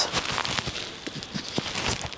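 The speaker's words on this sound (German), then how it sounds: "Es regnet immer wieder" Rain falls outdoors on a gray day in Ustka, Poland, as a dense, close patter of drops and crackles that continues without pause for the whole short stretch, with no voices.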